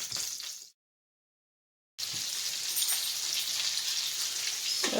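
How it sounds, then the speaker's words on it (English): Cube steaks sizzle in a hot frying pan, a bright crackling hiss that cuts out briefly to silence and then resumes steady and close. "They should sizzle when you drop them in the pan."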